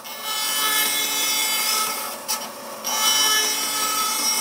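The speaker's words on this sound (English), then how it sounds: "I'll go and cut that on the bandsaw." A bandsaw cuts a curve through timber with a continuous close buzz and rasp. The noise briefly dips midway, then resumes at full strength, with no talking.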